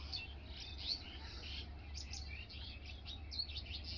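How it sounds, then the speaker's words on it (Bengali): Small birds chirp at dawn in a Bangladeshi village, near date palm sap collection, quick high tweets scattered in bursts over a steady low hum, moderately faint and without voices. "তাই কিচিরমিচির করে ডাকছে।"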